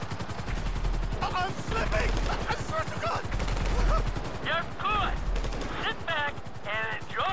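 Sustained automatic gunfire from the video game Grand Theft Auto V rattles in dense rapid bursts, loud and continuous, with higher-pitched game effects flickering over it.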